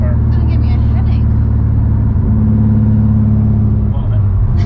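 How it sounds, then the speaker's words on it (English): Loud, droning engine of a Subaru STI being driven, a heavy low rumble filling the cabin continuously with slight shifts in pitch, while people talk over it. "The car's so loud."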